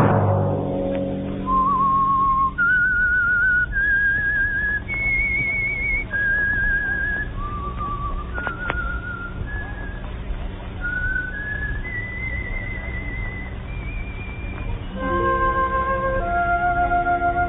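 The whistled signature of the 1947 radio drama The Whistler: a lone melody of sustained, gliding notes rises and falls over a low orchestral hum, ending as swelling music enters.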